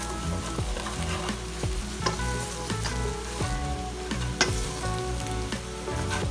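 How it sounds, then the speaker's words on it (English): Curry powder, garlic, ginger and spices frying for Japanese katsu curry, a loud continuous sizzle with repeated scraping strokes of stirring and occasional utensil knocks against the pan. "We're just gonna try and fry off the garlic, fry off the ginger, fry off some of the spices"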